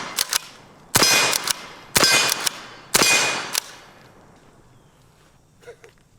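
Pump-action .50 caliber air gun rounds striking steel targets outdoors: four sharp, loud metallic impacts spaced about a second apart, each ringing briefly, followed by quieter faint clatter.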